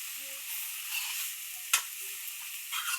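Dill (shepu) vegetable being stirred in a hot pan, a soft continuous frying hiss with one sharp scrape of the spoon midway and light scraping toward the end.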